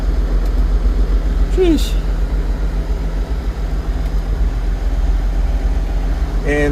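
A prototype International Harvester tractor engine idles steadily with a low rumble, while people talk nearby and one voice briefly exclaims.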